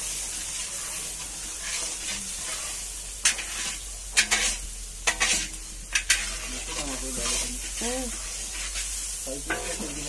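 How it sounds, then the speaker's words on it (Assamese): Khichdi bubbling and sizzling in a pot while a utensil stirs and scrapes through it, with irregular sharp clinks and pops over a steady low hum, close by. "খিচিৰি উতলি আছে"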